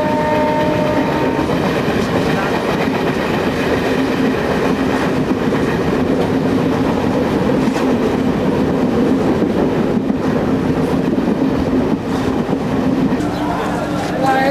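A train runs on rails from Ranchi toward rural Bihar, a loud continuous rumble with rhythmic clatter heard from on board throughout.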